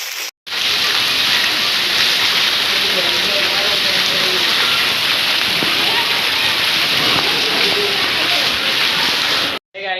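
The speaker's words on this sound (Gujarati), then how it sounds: "બહુ વરસાદ છે" Heavy rain pouring onto a flooded road in Ahmedabad, a loud, continuous rushing hiss with splashy texture that cuts off briefly near the start and end.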